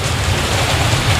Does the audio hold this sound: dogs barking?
no